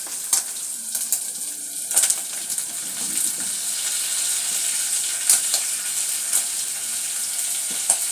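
White onions sizzling gently in a pan over low heat, a steady soft frying hiss with a few light clinks and scrapes near the start, close and alone without talk.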